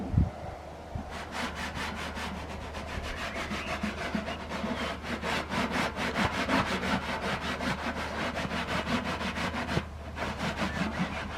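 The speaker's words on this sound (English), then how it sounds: "you can sometimes get some of the grime off with a wire brush or even just rubbing it over with a rag" Grime being scrubbed off a vintage Esso or Shell 2-gallon metal petrol tin, a steady rapid back-and-forth rasping of rhythmic strokes, close and continuous with a brief pause near the end.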